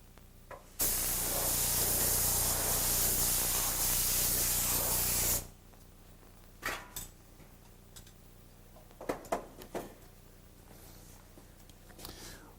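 Spray gun laying down a coat of Feather Fill catalyzed polyester primer on an old wheelhouse, one loud, steady hiss of about five seconds, then scattered faint shop clatter.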